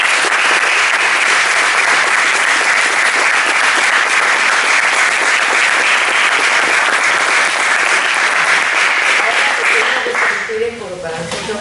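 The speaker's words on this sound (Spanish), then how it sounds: "Así que el aplauso para ustedes." Sustained loud applause from the audience at the close of an environmental arbitration competition, a dense, even clatter of clapping that thins out near the end as voices begin.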